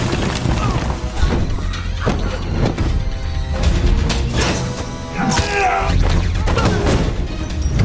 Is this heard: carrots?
no